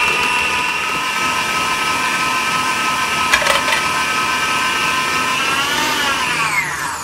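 A Geek Chef stand mixer creams cheesecake batter at high speed, its motor giving a loud, steady whine that holds for several seconds before the pitch drops near the end as it slows.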